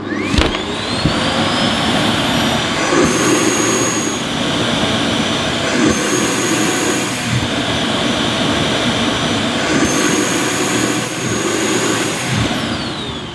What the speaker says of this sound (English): And when the clean station stops, you simply remove the dirt container.